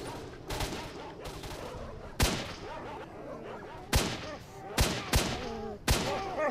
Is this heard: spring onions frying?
no